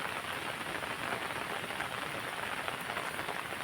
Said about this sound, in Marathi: इकडे पाऊस बघू शकता